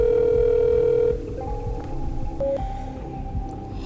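A telephone tone sounds steadily for about a second, then stops, leaving a faint room hum with a few soft, brief electronic beeps.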